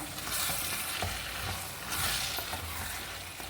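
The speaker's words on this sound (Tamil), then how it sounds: "சிக்கன் வேகும் போது ரெண்டு வாட்டி எடுத்து கிண்டி விட்டுக்கோங்க" Chicken biryani cooking in a pot over medium heat, with a dense, steady sizzle and bubbling and soft stirring scrapes, close and without talk.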